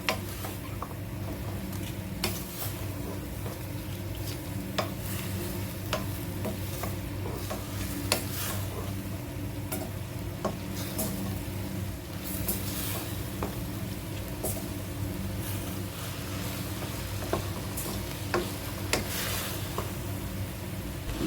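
Whole garam masala, cumin, fennel, red chilies, coriander seeds, turmeric and cashews dry-roast together in a pan, giving a steady soft rustle and scrape of stirring with faint light crackles and occasional ticks throughout, no voices.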